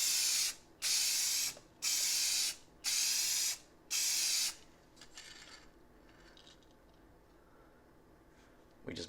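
Four short bursts of spray paint hiss from an aerosol as a light mist coat goes onto a Corvair body panel, close and loud, followed by quieter faint handling noises and a pause.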